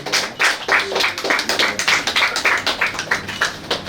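Applause at the opening ceremony of a beauty care shop in Darbe, Puttur: a small crowd claps steadily and briskly, individual claps distinct and fairly close, carrying on without a break.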